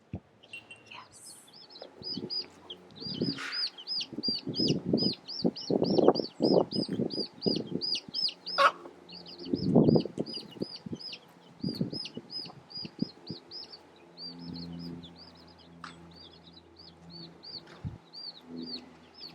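Broody hen near a backyard chicken coop, with soft low clucks and wing flaps in bursts, under constant high chirping of small chicks and a little human talk.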